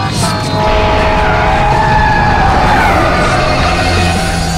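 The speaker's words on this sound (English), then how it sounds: "think you can take that corner with a drift or what?" Hyundai IONIQ 5 N electric car drifting through a corner, with a loud, sustained tire squeal and skid over steady road and motor noise, filling the whole stretch at close range.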